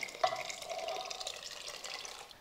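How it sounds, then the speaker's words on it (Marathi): Water splashes and runs steadily into a pot of cooked dal and vegetables for a couple of seconds, a close, continuous pouring sound with no voices. "त्याचबरोबर भरपूर पाणी घालायचं आहे."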